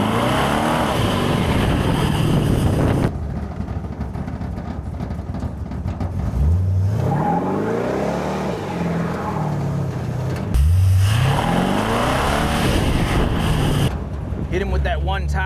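A Ford roadster with a freshly swapped gear set in its 8-inch Ford rear end drives and accelerates hard, its engine rising through the revs in repeated pulls with gear changes in between. The sound is close, loud and continuous.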